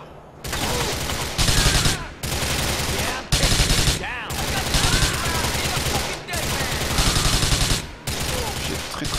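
Rapid automatic gunfire in the video game GTA IV, loud sustained bursts broken by brief pauses, several long volleys of close, dense shots repeating in a rough rhythm.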